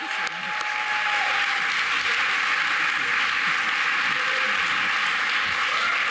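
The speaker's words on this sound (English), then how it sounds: "Round of applause." Audience applause at a games awards ceremony, sustained dense clapping filling the room at moderate level, with no speech over it.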